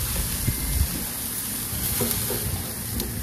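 A burger patty grills with a steady, close sizzle and crackling fat. Faint scraping of a utensil turning it comes through now and then, and the hiss runs continuously with no talking.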